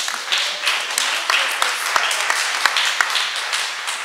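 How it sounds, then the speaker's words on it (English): Audience applause breaks out at a school nutrition and cooking-in-the-classroom event, a steady patter of clapping with a few sharper claps standing out, moderately loud and continuous. "That deserves a round of applause."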